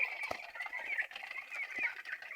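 Native hens cluck softly and continuously, a busy layered chorus of short calls with a few louder knocks mixed in.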